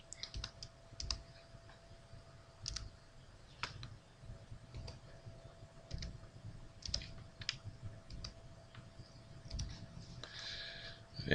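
Someone types a security code on a computer keyboard, producing quick, light key clicks in irregular clusters over a low steady hum, close and fairly quiet, with no talking.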